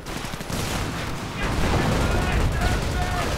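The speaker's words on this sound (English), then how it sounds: "he's just firing right into their backs" Gunfire rattles through a World War II strategy game battle, with dense overlapping bursts and shots forming a continuous loud fusillade that grows heavier midway.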